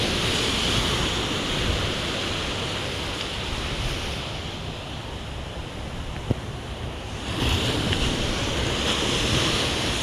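Sea waves wash steadily onto a beach with a constant roar of surf and some wind buffeting the microphone, loud and continuous, easing slightly midway before building again.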